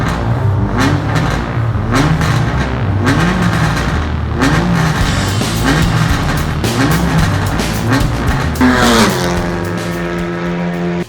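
A Honda Civic TCR race car, with its 4-cylinder turbocharged engine, revs loudly in a garage in repeated sharp bursts, then climbs in one long rising rev near the end, close and unaccompanied by speech.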